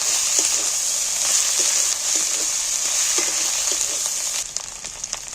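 Spices and mutton fat fry hard in a pan while jackfruit curry is prepared, a steady loud sizzle with faint scraping stirs that eases slightly near the end.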